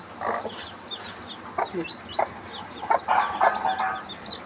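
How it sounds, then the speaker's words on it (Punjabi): Chickens cluck softly while seven small newly hatched chicks peep in high, quick bursts, close by, over a low steady background hum. "ਸੱਤ ਚੂਚੇ ਨਿਕਲੇ ਨੇ ਛੋਟੇ ਛੋਟੇ ਬਹੁਤ ਸੋਹਣੇ ਲੱਗਦੇ ਨੇ ਫਿਰਦੇ"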